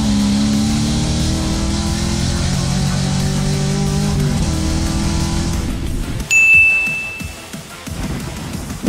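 Two LS V8-powered cars, a Chevrolet Corvette and a BMW E46 drift car, race side by side. Engines roar loudly and rise through the gears, then a gearchange drop gives way to tire and mechanical noise and a sharp high whine.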